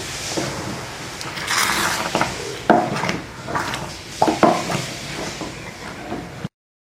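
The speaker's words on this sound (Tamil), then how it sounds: "எல்லாம் ஒன்று சேர்ந்து வர வரைக்கும் நம்ம கிண்டிக்கிட்டே தான் இருக்கணும்." A thick wheat halwa, Thirunelveli style, is stirred in a pan, giving irregular scraping and knocking against the metal, with a few sharper clunks, close and moderately loud, with no talking.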